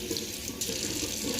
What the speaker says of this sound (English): I'm gonna rinse my hand off.